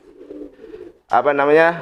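A low, soft murmur gives way to a loud, close pigeon coo, a rolling throaty call holding for nearly a second.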